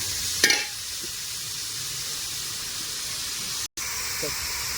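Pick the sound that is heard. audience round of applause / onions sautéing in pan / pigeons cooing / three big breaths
onions sautéing in pan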